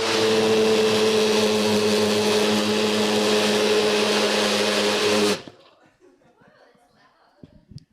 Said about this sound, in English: And NutriBullet in 3, 2, 1. Hold on, I gotta flick it on.